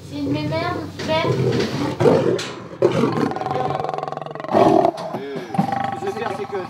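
Lioness roaring at Doué-la-Fontaine zoo in France, a series of loud, close, throaty roars and grunts in quick succession, with people talking nearby between and over the calls.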